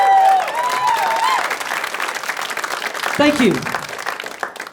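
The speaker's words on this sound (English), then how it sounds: "Most of the room clapping, one person walking out" An audience at a stand-up comedy show applauds loudly and steadily, dense clapping filling the room and gradually thinning, while the comedian speaks briefly over it.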